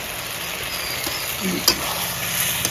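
Potatoes and broccoli stir-fried in a spiced gravy, with a steady close sizzle, a few soft scrapes of the spoon against the pan and no voices.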